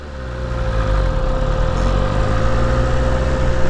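A BMW S1000RR sport bike being ridden, its engine a steady, continuous drone with a sustained tone riding above a rumbling low end, close and fairly loud, with no talk over it.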